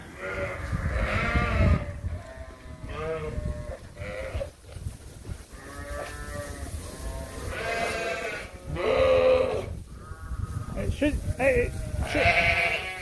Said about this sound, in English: all what these are is a bunch of spoiled lambs.